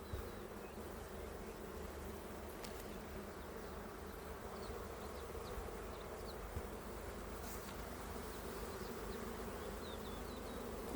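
Honey bees buzz at an opened hive, a soft continuous hum of many wings close by with a few individual bees darting past, with no talking.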